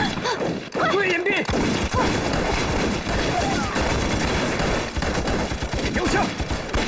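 Rapid gunfire and bursts of shooting from soldiers in a Chinese war film battle scene against Japanese troops, a dense continuous barrage with sharp cracks throughout, mixed with shouting voices.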